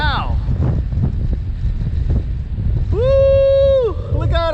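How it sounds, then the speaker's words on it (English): Strong hurricane wind of about 50 mph during Hurricane Dorian, heard as a loud, steady rush and buffeting across the mic, with a rising and falling whine from a small quadcopter drone's motors in fast mode partway through. "This is like probably like what, 50 miles an hour wind."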